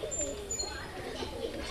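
Green-eyed Madrasi pigeons in a loft at Surjapur give soft, low cooing in faint repeated murmurs, with a quiet voice now and then in the background.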